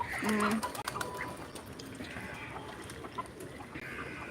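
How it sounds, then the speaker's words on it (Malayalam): Pigeons give a short, low, throaty coo near the start, then softer murmuring amid outdoor background noise, faint and brief. "രണ്ടാമത്തെ പ്രാവും കൂടി വന്നു"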